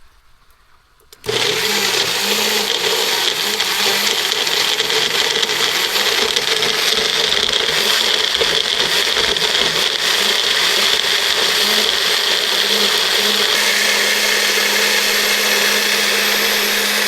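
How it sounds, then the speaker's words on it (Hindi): A mixer grinder whirs loudly and steadily, blending tomatoes into a gravy outdoors after a quiet start, continuous with no talking. "टमाटर जो है मिक्सी में बढ़िया से इसकी ग्रेवी सी बना लेंगे टमाटर की।"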